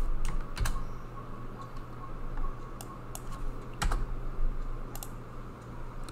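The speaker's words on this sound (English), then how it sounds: "So I can type down here my files." Typing on a computer keyboard, heard close and moderately loud as a sparse run of separate key clicks with uneven gaps over a low steady room hum.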